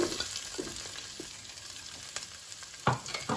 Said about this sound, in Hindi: अब हमारे पास ये 1 क्यूब्स में कटी हुई अनियन है, इस तरह से क्यूब्स में काट ली है, और 1 कैप्सिकम। अब हम इनको फ्राई करेंगे।